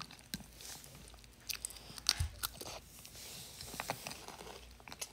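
Froot Loops cereal crunches up close in a handful of sharp, crisp bites, followed by quieter chewing between them.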